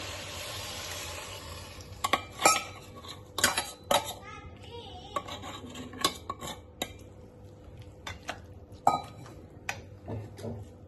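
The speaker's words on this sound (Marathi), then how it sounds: "आता मी यात हे अर्धा लिटर दूध टाकते, हे अमूल ताजा दूध आहे" Amul fresh milk being poured into carrot halwa in a pan, with clanks of a spoon and vessel against the pan and a soft pour and sizzle underneath, close and intermittent.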